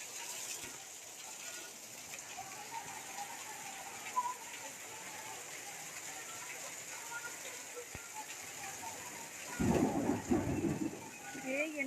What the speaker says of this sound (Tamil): என்ன இடி இடிக்கி வெடி வெடிக்கி.